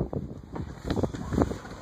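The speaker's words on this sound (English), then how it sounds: "It's kind of a windy day" Low buffeting wind rumble against the microphone, gusting unevenly over a short stretch.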